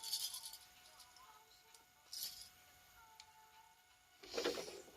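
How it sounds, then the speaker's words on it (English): A sewing machine rattles and clatters unevenly, with a faint steady hum and louder bursts of mechanical noise at the start, middle and end. "Sewing machine throwing a temper tantrum."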